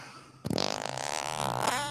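A loud, close fart rips out as a buzzing, rapidly pulsing tone that wavers and stretches for over a second before tapering off, heard alone without speech.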